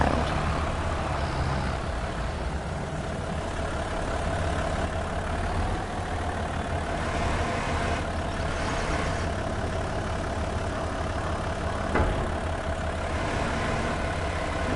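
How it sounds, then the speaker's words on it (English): Tractor engine in Farming Simulator running steadily at a low idle-like drone, continuous and fairly loud for the whole stretch, with no talk over it. "Might help if I move the tractor."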